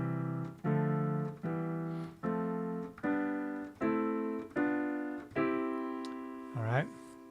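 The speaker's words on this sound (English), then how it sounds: "if I were to play this on the keyboard, it would sound something like this" Bass-register keyboard chords stacked in thirds, about eight sustained chords struck one after another at a steady, slow pace, each ringing clearly and decaying slightly, alone with no talking.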